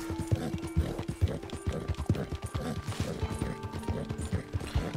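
A horse gallops at high speed in Red Dead Redemption 2, its hooves striking in a steady, driving rhythm of thuds at close range under a moderate bed of background sound.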